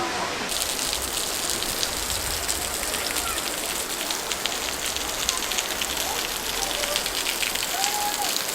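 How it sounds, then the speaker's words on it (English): Water seeping and dripping from the cliff face at Weeping Rock in Zion National Park, a constant dense patter of falling drops like steady rain, close and even, with faint voices in the background. "You can come up to Weeping Rock where the water literally weeps out of the rock."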